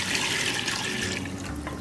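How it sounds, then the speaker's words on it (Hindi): Spiced water from a mutton mandi being poured back into a cooking pot, a steady splashing pour that runs continuously and close for the whole moment. "ये पानी हम फिर से इसमें ऐड कर देंगे"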